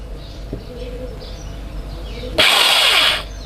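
A power drill drives a screw while a Hikvision security camera is being mounted, a loud, close burst of high whirring lasting under a second after quieter background sounds.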